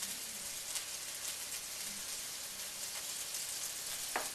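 Taquito filling with pepper, likely seasoned with cumin, cooks in oil in a pan, giving a steady, close sizzle and fry hiss throughout with a few brief louder crackles and no talking.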